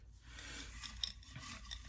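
Folded paper prompt slips shuffled inside a TBR jar, a soft continuous rustling and rasping with a few brighter crinkles, close and fairly quiet.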